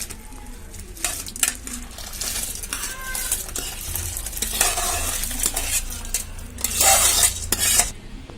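A spoon stirring washed rice into boiling coconut milk in a pot, with repeated scraping, metal clinks and bubbling bursts, loud and close, with no voices.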